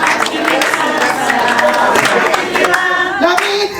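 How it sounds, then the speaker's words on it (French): An outdoor festival crowd at Kankan, Guinée, claps and cheers, with dense hand clapping mixed with voices and shouts, loud and continuous throughout. "Je vous demande encore une fois de les applaudir."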